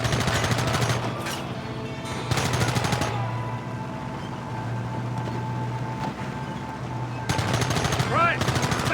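Gunfire in the Western video game Red Dead Redemption, with rapid machine-gun bursts at the start and near the end, loud and close, over a constant low engine rumble.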